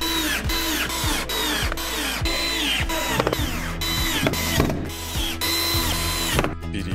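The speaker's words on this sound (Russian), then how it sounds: "крепит с помощью саморезов из комплекта фурнитуры." A power screwdriver drives self-tapping screws into a wooden bed frame with a lift mechanism. It gives loud, close, repeated whirring bursts with ratcheting clicks and short pauses between screws.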